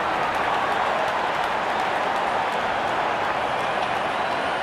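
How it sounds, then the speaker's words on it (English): A large cricket stadium crowd applauds a fallen wicket, a loud, dense wash of clapping and cheering sustained evenly throughout. "there comes the celebration, and the crowd loves it"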